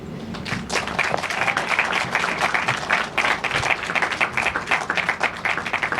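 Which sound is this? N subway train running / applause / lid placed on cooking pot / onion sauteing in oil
applause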